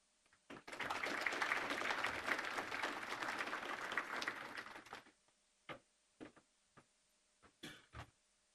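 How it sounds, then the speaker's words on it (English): A room full of people applauds steadily after 4-H youth energy presentations. The clapping swells quickly, holds for about four seconds, then breaks into a few scattered, isolated claps as it dies away. "I think that deserves another round of applause"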